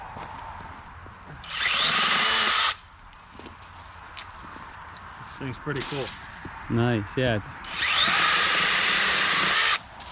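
Two long bursts of a small 6-inch mini chainsaw buzzing steadily through a branch, separated by a quieter stretch where a person speaks briefly.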